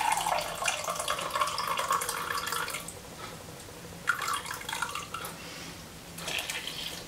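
Water pours from a tap in fairly quiet splashing bursts, stopping briefly and starting again, while making no-knead bread with flour in a bowl.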